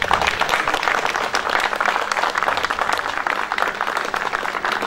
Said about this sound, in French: je voudrais qu'on applaudisse tout simplement